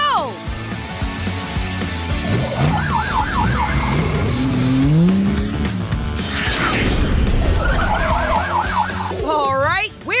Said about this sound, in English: This sounds like a job for Marshall's transforming fire truck.